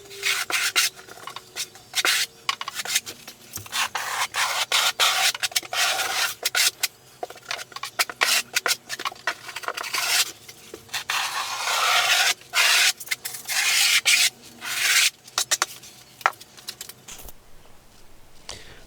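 Steel trowel scraping and rubbing Kerdi-Band waterproofing strip into thin-set mortar during a Schluter bathroom installation, a steady series of close, rasping strokes with brief pauses, ending in quiet.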